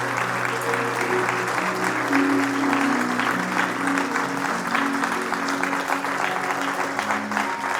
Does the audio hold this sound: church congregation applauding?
yes